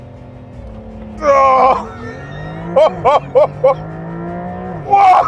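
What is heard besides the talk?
2025 Porsche 911 Carrera accelerating hard using launch control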